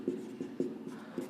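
Pen strokes scratching on paper as a capital city name is written onto a map, several short rhythmic scrapes close by with no voice.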